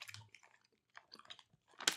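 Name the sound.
chewing Pulmoll gum pastilles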